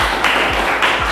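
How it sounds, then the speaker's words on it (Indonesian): Classroom applause for a student group after a presentation, heard as a brief burst of clapping with a few distinct claps close together. "Beri tepuk tangan untuk kelompok 1"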